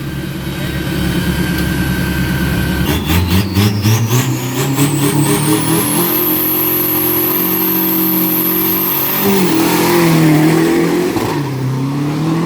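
Turbocharged 3.0-litre pickup in the 1500 kg class launching in a Thai street drag race, engine roaring and climbing steadily in pitch with a whistling turbo whine, loud and close, faint announcer talk behind.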